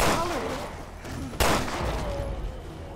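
Gunshots ring out in the zombie-survival game Resident Evil Revelations 2, a couple of sharp cracks with one strong blast midway, mixed with game effects and a faint voice.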